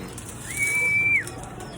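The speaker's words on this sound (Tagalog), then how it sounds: "Bigyan ko ulit yung mga ibong ko, yung flyers." A racing pigeon gives a single soft, drawn-out coo at feeding time, heard close over a steady background hum, with no one talking.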